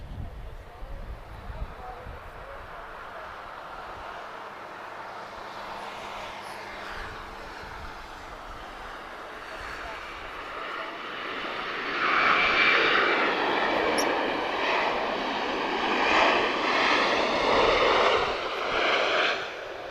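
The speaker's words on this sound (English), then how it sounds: "a noisy arrival there from Brussels" An airplane arriving from Brussels at Lisbon Airport roars overhead, a broad engine rumble building over twenty seconds and growing loudest toward the end, with wind buffeting the microphone.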